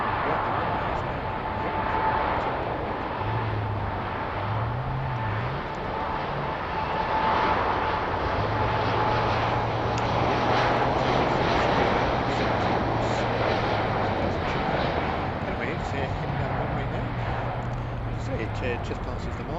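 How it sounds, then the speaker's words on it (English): An aircraft takes off from a wet Heathrow runway, a broad, sustained engine roar heard from a distance, while someone talks over it throughout. "As soon as they pass the neon sign, the co-pilot says rotate, they rotate, and then off goes the plane."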